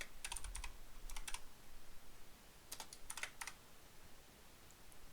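Keys on a computer keyboard are tapped in short quick bursts while text is entered in Vegas Pro editing software, with pauses between clusters of clicks over a quiet background hiss.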